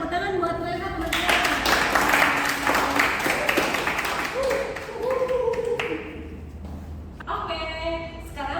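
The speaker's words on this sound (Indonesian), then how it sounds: "Tepuk tangan buat Rena, teman-teman." A classroom audience claps for a student presenter. Scattered applause swells briefly and fades while a voice talks over it.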